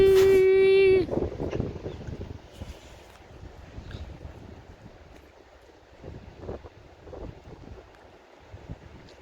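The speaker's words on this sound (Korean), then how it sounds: "바람 소리." A brief electronic tone sounds first, then wind rushes and rumbles across the microphone in uneven gusts, fairly loud and unbroken.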